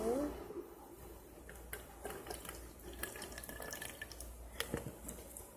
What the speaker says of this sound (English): So I got some more water, and I'm going to pour it in.